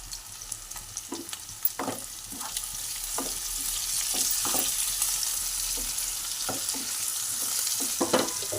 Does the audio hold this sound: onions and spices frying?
yes